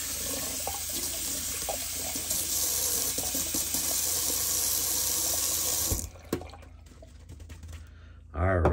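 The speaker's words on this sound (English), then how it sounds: "I'm actually going to rinse off my brush, just because it's full." Shaving brush rinsed under a running bathroom tap, a steady close rush of water for about six seconds that then stops, leaving faint drips and small handling knocks.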